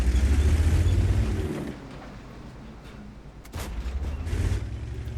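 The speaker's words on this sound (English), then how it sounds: "Another shot in through the upper plate." A heavy tank cannon blast from the T26E5 Patriot in World of Tanks: a deep, loud boom at the start that fades into a low rumble, followed by a second heavy thump about three and a half seconds in.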